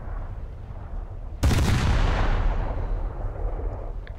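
A warship's naval guns fire in a game, one sudden heavy blast breaking out of low engine rumble and rolling off into a long, fading boom.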